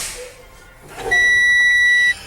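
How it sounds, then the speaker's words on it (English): A truck's low air pressure warning buzzer sounds for about a second, a sustained high-pitched tone that starts abruptly and cuts off, loud and close, over faint background noise. "My warning light and buzzer come up at 70 psi."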